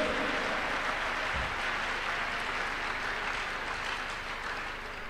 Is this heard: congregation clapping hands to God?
yes